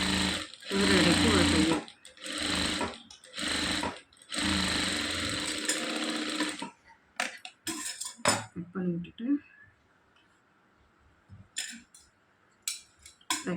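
A sewing machine stitching the front part of a blouse, running in several loud, close bursts of rapid stitching separated by short pauses, followed by quieter clicks and handling of fabric and parts.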